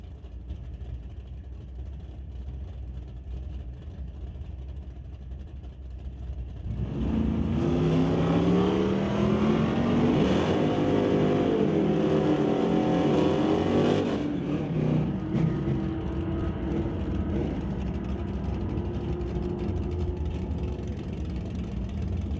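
Drag racing launch of Walter Johnson's Chevelle and Del Northgraves' 1977 Nova in an ET bracket series race: a steady idle rumble bursts into a loud, rising engine roar that climbs through the gears for several seconds, then settles into a lower fading drone.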